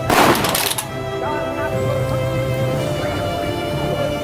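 Honor guard presenting arms at a police funeral ceremony, a loud sharp clatter and thump of rifles at the start, then a sustained ringing tone lingering under ambient outdoor sound.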